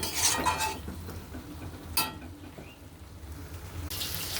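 Potatoes being stir-fried in a pan with a little hot water added, a spatula scraping and clinking against the pan in short bursts over a low background sizzle.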